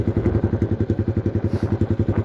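Sniper 155 motorcycle with an open pipe exhaust: a loud, close idle with rapid, evenly spaced popping thumps from the pipe, a steady rough burble running alone.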